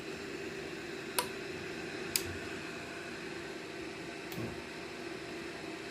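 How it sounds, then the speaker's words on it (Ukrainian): Relay inside an Axioma ISMPPT BF DOU G 6000 inverter clicking on during a start-up attempt: three sharp, separate clicks spaced a second or two apart over a steady electrical hum, with no talking. "Защелкотіло."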